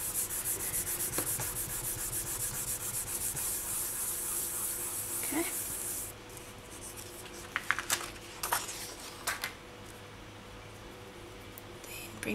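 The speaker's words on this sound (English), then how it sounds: "I just want to burnish this so that it has a nice finish on the back." Polymer clay earrings get their backs burnished, close rhythmic rubbing and scraping strokes for about six seconds, then quieter scattered taps and handling noises.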